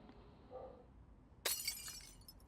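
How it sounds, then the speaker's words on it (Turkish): Glass breaks suddenly partway through, a single bright crash with scattered tinkling shards, after a quiet stretch with a faint murmur. "o cam kırılma sesi ne?"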